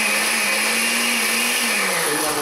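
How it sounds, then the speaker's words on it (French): A blender blending blackberries whirs loudly and steadily, its motor pitch holding then dropping slightly near the end; no voices, just the continuous grinding drone. "Je vais mixer, attention les oreilles."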